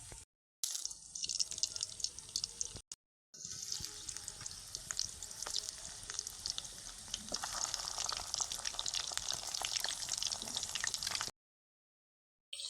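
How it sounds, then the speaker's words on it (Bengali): Whole pointed gourds, coated with turmeric, fry in hot oil in a wok with a bright, crackling sizzle. It runs continuously, broken by two short silent gaps and a pause near the end, with no talk. "সবগুলো পটল কিন্তু আমি একবারেই কড়াইতে দিয়ে দিয়েছি এইবার এটা ভাজা হবে"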